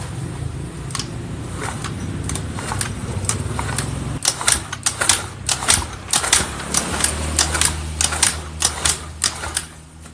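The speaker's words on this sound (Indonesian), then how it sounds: "boleh diengkol-engkol dulu beberapa kali sampai olinya keluar di sini" A Yamaha Fino scooter engine fitted with a Vario piston is kicked over repeatedly without starting, giving a rapid rhythmic mechanical clatter of strokes that grows sharper and more regular after a few seconds, close and loud.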